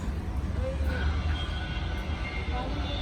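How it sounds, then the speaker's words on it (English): Train rumbling past nearby in Kensington or Borough Park, Brooklyn, producing a steady, loud low-frequency roar with metallic squeals from the rails and no break through the short stretch. "You see a wall and you hear a train all day."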